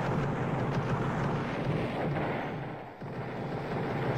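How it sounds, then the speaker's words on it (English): Dense, continuous gunfire from a Roblox shooting game, a loud steady barrage of overlapping shots and booms with a brief dip near the end and no pause for talk. "Stop shooting at me!"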